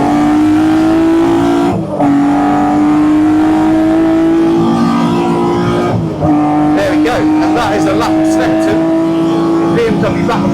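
A 1972 BMW CSL "Batmobile" race car engine pulls hard on a circuit, its loud steady drone rising in pitch as it accelerates, with brief lifts and gear changes around two and six seconds before the power comes back on.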